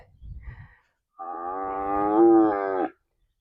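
On the second day of weaning on a small acreage, a calf lets out one long, loud bawling moo close by after a soft earlier sound, with no voices.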